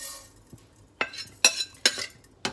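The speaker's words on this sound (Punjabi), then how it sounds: "ਜਦੋਂ ਉਹਦੇ ਚੋਂ ਆਵਾਜ਼ ਆਉਣ ਲੱਗ ਪਏ ਕੜ ਕੜ ਉਦੋਂ ਬੰਦ ਕਰ ਦਿਓ" Black cumin seeds crackle and pop in a heated pan, a handful of sharp, bright bursts spaced irregularly over a low background hiss, close and fairly loud with no voices.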